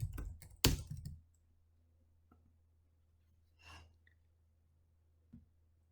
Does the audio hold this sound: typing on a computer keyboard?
yes